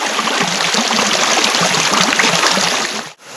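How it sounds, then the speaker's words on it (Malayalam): A lively stream at the Adakode Chola waterfalls rushes steadily over rocks, a loud continuous wash of flowing water close by that fades out abruptly at the end. "മുന്നോട്ട് പോകും തോറും വെള്ളത്തിൻ്റെ നല്ല കളകള ആരവം നമുക്ക് കേൾക്കാം."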